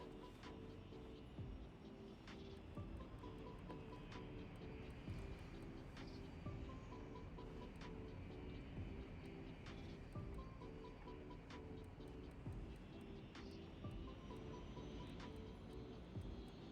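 Airliner in Cities Skylines taxiing toward the runway, a steady engine drone held under layered game ambience and periodic clicks, continuous and moderately faint throughout.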